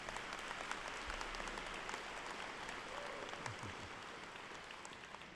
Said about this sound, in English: Put your hands together and clap for them.